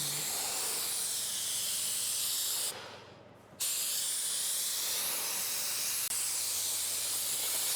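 A continuous close hiss of a spray gun laying a paint coat on the lower part of a car bumper, cutting off for under a second midway before resuming steadily.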